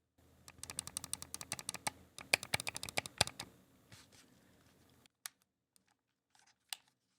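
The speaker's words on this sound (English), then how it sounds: "Shoulder buttons, the clicky." Rapid, dense runs of small plastic clicks from the shoulder buttons of a Turtle Beach Stealth Ultra controller, quiet and close, thinning out into a few isolated clicks near the end.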